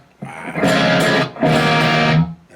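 An electric guitar played loud and distorted through an amp and a red speaker cabinet, two long sustained roaring chords separated by a brief gap.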